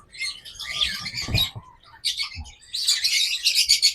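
A tame pet bird kept in a cage chirps close by in quick bursts of bright tweets, with brief pauses between the clusters and no talking.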